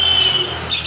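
White zebra finches chirping in a bird shop, high thin calls over a steady background hum, a brief cluster of tweets near the end.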